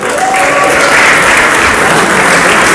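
An audience at a Karnataka Rajyotsava celebration show claps loudly and continuously, a dense, even wash of applause from a large crowd that fills the whole moment without any voices on top.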